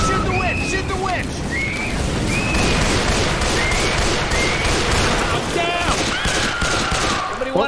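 Rapid gunfire from several weapons blasts at the witch in Left 4 Dead 2, with dense overlapping shots and bursts filling the whole span while players shout over it.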